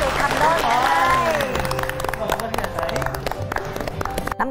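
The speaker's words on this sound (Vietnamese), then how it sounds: "một tràng vỗ tay cho một cặp nhà đã được thành đôi ngày hôm nay." An audience claps for a newly matched couple at a comedy matchmaking show. The clapping runs steadily throughout, with a voice talking and reacting loudly over its opening.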